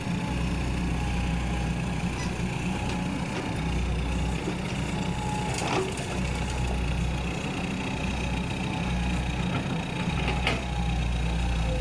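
A 14-ton, six-wheel truck engine runs at a steady idle, a low continuous rumble with a faint rhythmic throb, fairly quiet and constant throughout with no talking.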